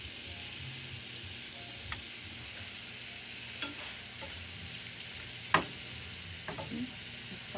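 Onions cooking in a pan make a soft, even sizzle and hiss, broken by a few faint clicks and taps of a utensil stirring them, with no speech.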